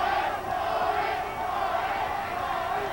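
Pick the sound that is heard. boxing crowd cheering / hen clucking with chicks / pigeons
boxing crowd cheering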